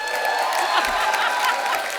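Studio audience at The Kapil Sharma Show applauding and cheering in a loud, continuous wash of claps that fills the whole moment, with faint voices underneath.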